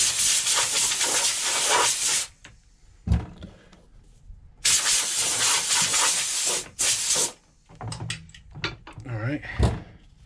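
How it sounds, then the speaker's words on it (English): Compressed air blasted at men's Christian Louboutin shoes to clear off dust, loud close hissing bursts in two long blasts followed by shorter spurts, separated by quiet gaps and faint handling noises. "Now I'm gonna blow them off real quick with some compressed air to get any extra dust off."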